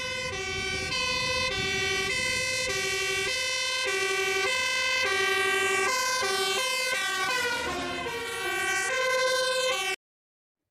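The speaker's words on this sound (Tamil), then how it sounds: "அடுத்த வாகனம் ஃபயர் இன்ஜின்." A fire engine siren wails in steady rising and falling tones, loud and continuous for about ten seconds, then stops abruptly, with no voices.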